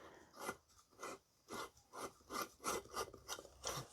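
An LED bulb is screwed into the fitting of a small 40x40 cm softbox, giving a series of short rasping, rubbing twists in a fairly even rhythm, close and quiet.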